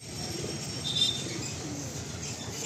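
Malwai pigeons in a full loft give soft, low cooing against a steady hum of background noise, with a faint chirp or two and no one speaking.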